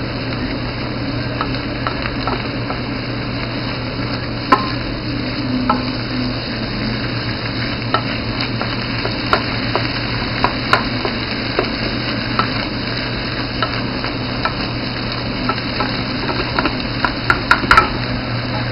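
Turkey, onions and garlic frying on a stovetop while being stirred and flipped, a steady sizzle with scattered scraping clicks from the utensil, close and continuous with no talking.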